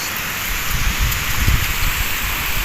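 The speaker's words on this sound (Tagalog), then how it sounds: "Patay. Umaambon na naman." Light drizzling rain falling outdoors, a soft, steady hiss with scattered patters, continuous and fairly close.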